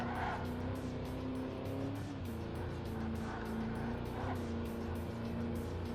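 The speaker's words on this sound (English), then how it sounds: "There was a little bit of tire noise, but that's to be expected because I'm turning at very high speeds." Tire squeal from a 1968 Mustang cornering at high speed in the racing video game Ford Racing 3, heard as a continuous tonal screech over steady engine drone with no break.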